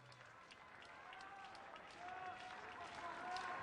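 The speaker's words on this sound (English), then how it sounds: "The customary rhythmic clapping here at Hayward Field for the University of Oregon" Spectators at Hayward Field clap during a college track meet, a distant, steady crowd sound that grows slightly louder, with a commentator talking over it.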